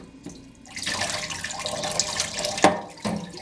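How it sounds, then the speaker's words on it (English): Hot water poured from a vessel over warped resin parts, a near splashing stream that swells after a brief start, with a sharp splash partway through and a short final gush. "I'll just sit there and pour it on like this, dip it."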